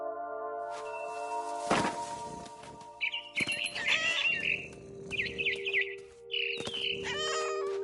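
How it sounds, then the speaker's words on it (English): In the video game What Remains of Edith Finch, a barn swallow chirps in quick twittering bursts, mixed with cat meows and a steady background tone of game music. "Then I heard chirping outside my window. It was a barn swallow going back to her nest."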